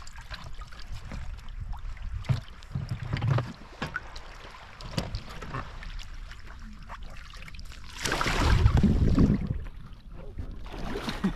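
A skin-on-frame skiff on the Baja coast is brought ashore, with water sloshing and scraping against the hull, a louder grinding rush near the end, and wind buffeting the microphone throughout.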